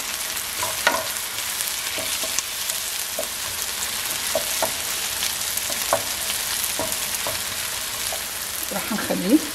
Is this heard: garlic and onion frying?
yes